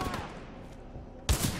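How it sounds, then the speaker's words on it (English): Mozambique shotgun firing in Titanfall 2, a single loud, sharp blast that bursts out near the end after a stretch of low game ambience. "Killing things in the Mozambique will never not be fun."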